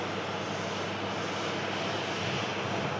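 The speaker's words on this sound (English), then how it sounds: "Corendon taxiing up in front of us." A Corendon airliner taxis at an airport, its jet engines giving a steady, continuous roar that holds level throughout with no voices.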